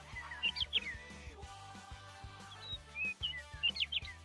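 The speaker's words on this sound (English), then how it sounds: "Chirp, chirp! That is the sound of a bird." Small birds chirp and tweet in quick, high bursts, several short calls scattered over a soft rhythmic background beat, moderately faint and fairly close.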